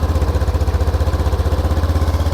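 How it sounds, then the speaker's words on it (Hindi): Honda Dio 125 scooter idling through its twin-tip muffler, a close, steady bassy exhaust putter with an even rapid pulse and no talk over it. "इसका एग्जॉस्ट नोट आप यहाँ पे सुन पा रहे हो"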